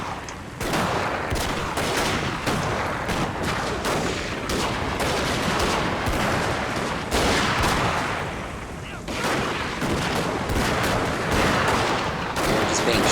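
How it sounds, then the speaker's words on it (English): Gunfire in a rainy siege battle in the video game Shogun 2: Total War, dense overlapping musket volleys crackling continuously for the whole stretch, loud and busy with rain-like hiss underneath. "They're just being shot down as they come."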